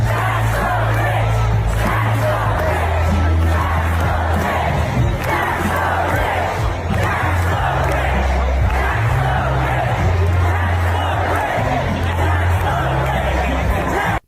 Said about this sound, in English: Now here's the crowd chanting "Tax the rich."